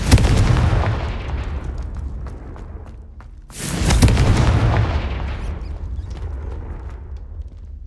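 Two heavy booming blasts from the Confringo explosion spell in the Hogwarts Legacy video game, the first at the start and the second midway, each with a long rumbling decay.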